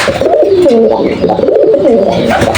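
Pigeons coo steadily in low, rolling, throaty calls that overlap and continue throughout, close by and fairly loud.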